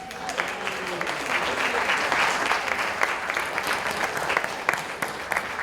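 A lecture audience gives steady, dense applause from many hands that runs for the whole stretch, with a voice faintly audible underneath.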